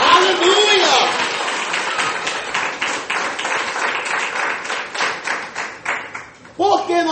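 Church congregation applauding during a Pentecostal sermon, a dense, sustained wash of many hands clapping, fairly near and loud, with a few louder claps and voices near the end.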